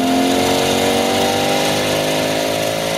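A 2008 Corvette fitted with twin rear-mounted turbos revs loudly and close by, its engine tone climbing steadily over a few seconds in one continuous, strained pull with no voices.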